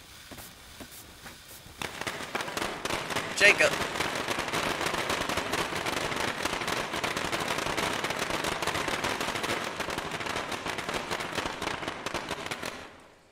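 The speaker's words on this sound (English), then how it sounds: "Alright, firecrackers." Long string of rapid firecracker pops in the zombie video game State of Decay, a crackling barrage that runs loud and fairly close for about ten seconds; a voice calls out briefly near the start.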